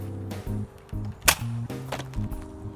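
A spring-powered Nerf shotgun is pumped and fired at close range, giving a quick series of plastic clacks and snaps with one sharper pop in the middle, all within a few seconds.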